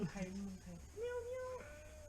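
A kitten's soft, high meow rises and falls briefly, followed by a longer drawn-out mew, with people talking quietly around it.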